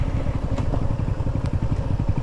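A motorcycle engine putters in a steady, rapid low chug close by near a Zambales beach, loud and continuous with no talking.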